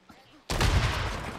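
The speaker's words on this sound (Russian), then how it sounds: "Так, первая пойдет граната." A grenade goes off in the Days Gone video game: a sudden, loud blast erupts after a quiet moment and carries into a heavy, rumbling roar that holds to the end.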